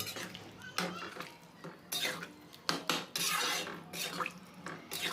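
A spoon stirs cauliflower and potato curry seasoned with garam masala in a pan, giving intermittent metallic scrapes and clinks in uneven bursts, fairly close but soft overall.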